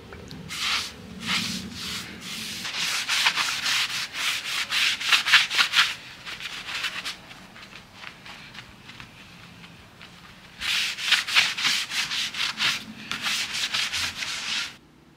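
A rag rubs pre-stain wood conditioner off an old restored wooden marquetry skateboard deck in bursts of brisk back-and-forth wiping, with a quiet pause in the middle before the strokes resume.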